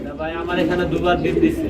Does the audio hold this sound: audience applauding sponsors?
no